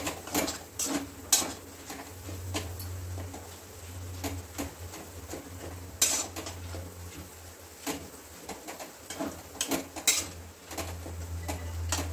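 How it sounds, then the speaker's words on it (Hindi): Metal spoon clinking and scraping in a pan while milk cream is stirred into a raw banana mixture for barfi, with irregular close taps over a low steady stove hum. "अब हम इसमें दूध का मलाई डाल देंगे और इसको भी मिक्स कर देंगे"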